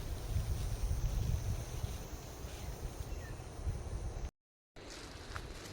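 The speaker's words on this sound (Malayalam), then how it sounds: "എന്താ കാറ്റ്, രക്ഷയില്ലാത്ത കാറ്റ്" Strong outdoor wind buffets the microphone in a loud, continuous low rumble with gusty swells, briefly cutting out near the end before resuming.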